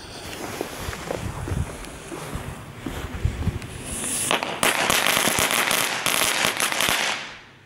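Category 1 consumer fireworks from Kik with meteor-style effects go off outdoors, a quick volley of sharp crackling pops and bangs building after a few seconds and then tapering away, with no talking.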